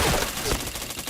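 Dense rapid gunfire from an online shooter match in Point Blank, with loud continuous bursts and a voice briefly under the shots.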